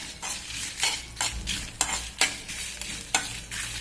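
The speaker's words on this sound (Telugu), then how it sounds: "మిరపకాయలు, జీలకర్ర, మెంతులు, కరివేపాకు వేయించాను." Dried red chillies, cumin, fenugreek seeds and curry leaves fry in a little oil, a continuous soft sizzle broken by repeated scraping strokes of a small spoon stirring the pan, close and fairly quiet, no talking.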